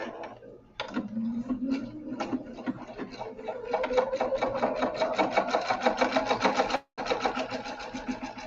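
A sewing machine stitches jelly roll binding onto a Dollar Tree dish mat for a placemat, whirring in a fast steady run with its pitch climbing, stopping briefly near the end and then starting again, close and fairly quiet.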